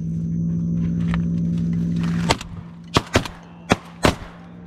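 Shotgun shots at teal on an opening-weekend duck hunt: four sharp, loud blasts in quick succession after a steady engine-like hum cuts off, close and alone without talk.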